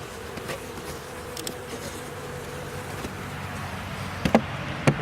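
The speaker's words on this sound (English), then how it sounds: "you'll see bees floating around you" Honey bees buzz around a newly installed package hive, a continuous low drone with individual bees whizzing close by now and then, quiet and steady with no talking.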